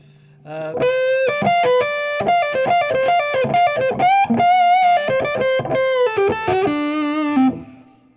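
Electric guitar with the tone knob rolled all the way down playing a solo, a melodic lead line with a warm, muted, dark tone, notes plucked one after another with some sustained and bent.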